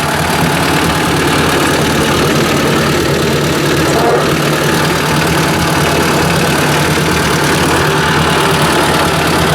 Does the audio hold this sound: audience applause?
no